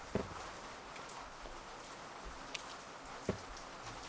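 Steady rain in a horror food-simulation video game hisses throughout, a soft even wash with a couple of louder droplet ticks standing out.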